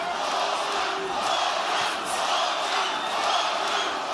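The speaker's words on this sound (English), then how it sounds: "The crowd support this early in a Loma fight is almost unlike anything we've ever heard before." Boxing crowd at Madison Square Garden roaring during a Lomachenko fight, a dense, sustained wall of cheering and shouting from a large arena audience, steady and loud without breaks.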